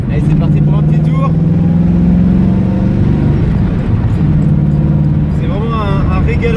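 A 1967 Pontiac Firebird drives along with a steady engine drone and rising gear pulls from inside the car, while someone talks over the engine noise.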